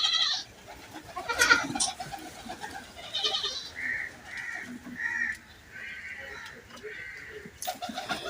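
Goats bleat repeatedly on a rural farm near an orchard, their calls coming in a string of mid-level cries, with birds and general outdoor ambience around them and some faint background voices.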